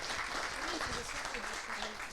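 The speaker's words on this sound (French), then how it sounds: "Je pense que vous pouvez encore les applaudir." Audience at a talk on sunscreen labels and marine life applauding the researchers, a steady wash of clapping throughout with voices mixed in underneath.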